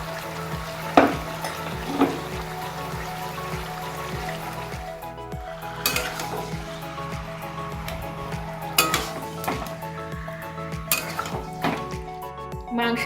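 Marinated Parsi chicken curry being sautéed and stirred in a pan, with a low steady sizzle and repeated clinks and scrapes of a spoon against the pan, close up and with no talking.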